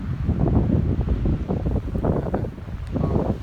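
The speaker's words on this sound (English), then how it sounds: "Wow, is it windy." Strong outdoor wind buffets the microphone during a muzzleloader deer hunt in Manitoba, a loud, continuous rumbling roar with gusty swells and no talk.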